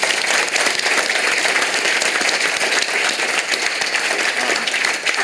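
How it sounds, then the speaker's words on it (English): Audience at a Gen Z panel discussion giving a big round of applause, loud, dense and steady clapping from many hands lasting several seconds, with no talk over it. "just give yourselves all a big round of applause"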